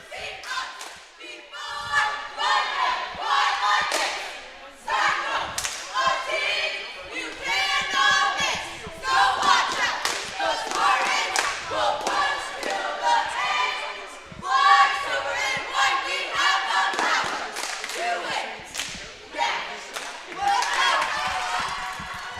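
A high school girls' varsity basketball game where the cheer squad chants in loud rhythmic unison, with claps, stomps and thuds sounding from a gym crowd throughout.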